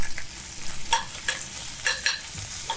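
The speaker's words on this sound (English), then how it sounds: "now let's add our chicken in" Raw chicken added to a hot pan for creamy jambalaya pasta, giving a soft, steady sizzle with scattered stirring and scraping clicks, moderately close and with no talking.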